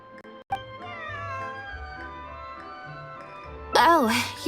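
A cat meows in the video game Genshin Impact, a drawn-out, wavering meow arriving near the end, after calm game dialogue and soft background music.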